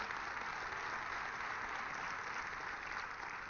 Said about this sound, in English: Please again give Rosetta and Adele and Rich a big, big round of applause